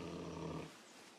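A wild animal growls low and steadily in Open Country, a rumbling snarl that fills most of the brief moment before cutting off into quieter ambience.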